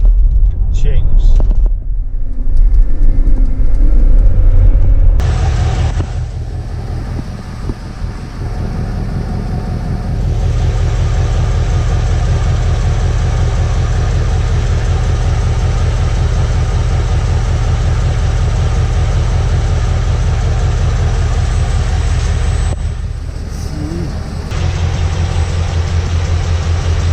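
A Ford Expedition driving with a faulty rear differential gives a steady low droning engine and drivetrain rumble throughout, with a louder stretch at the start and a brief dip near the end.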